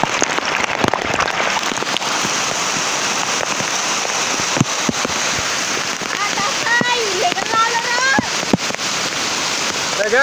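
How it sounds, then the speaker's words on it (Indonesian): A flooded, overflowing river in a forest rushes in a dense, constant wash of water, with a voice talking intermittently over it. "ayo kita lihat sungainya. Ini benar-benar meluap nih, itu dari segala arah tuh."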